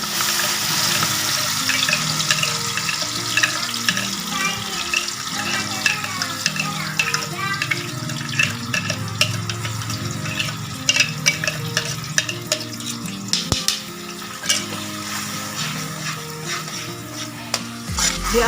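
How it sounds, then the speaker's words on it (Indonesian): A blended spice paste for potato balado sizzles in a hot pan while being stirred, a steady dense frying crackle with scraping stir strokes, close and loud, and a voice murmurs faintly underneath. "kita akan menumis bumbu yang sudah kita blender tadi"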